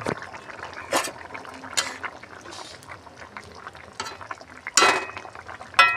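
Kasuri methi is stirred into a dish cooking in a pan, with scattered scrapes and clinks of the spoon against the vessel and a few sharper knocks near the end.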